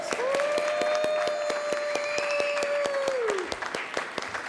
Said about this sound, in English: Let's welcome our kids in with applause.